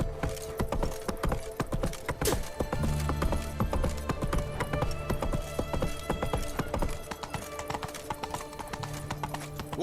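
Horse hooves trot in The Witcher 3 video game, a brisk, even clip-clop rhythm repeating close and clear for about ten seconds.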